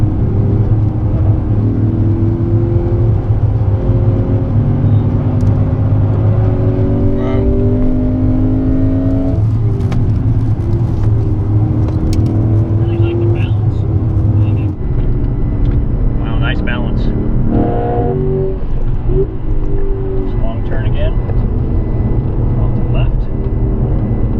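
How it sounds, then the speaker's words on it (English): 2016 Lexus GS F sedan accelerating hard on a race track, its engine droning loudly and steadily with rising pitch sweeps as it pulls through the gears, continuous and close, with wind and road noise underneath. "Hard on the gas."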